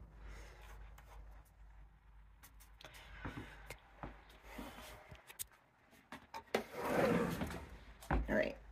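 A bathroom drawer is pulled open and pushed shut, giving a series of sharp clicks and knocks that grow louder toward the end, with some soft voice in the background.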